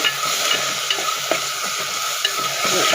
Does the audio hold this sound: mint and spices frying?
yes